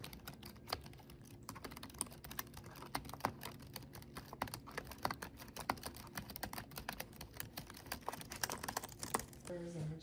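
Soft computer keypads clack rapidly and continuously in a county operations center, with uneven hard and light strokes, while faint voices murmur in the background.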